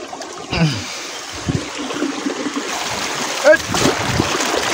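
A mountain stream flows and splashes in a steady close rush of water, with a few brief voices and a short bump of movement heard over it.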